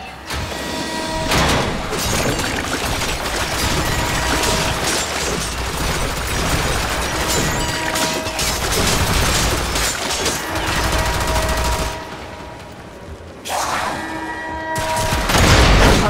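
Sustained gunfire in Warframe as a reactor core is exposed and destroyed, loud and continuous for most of the stretch with dense rapid shots, one brief lull, then heavy firing resuming to a loud finish.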